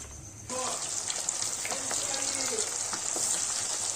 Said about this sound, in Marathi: चला बघा आवाज दाखवते मी तुम्हाला मच्छीचा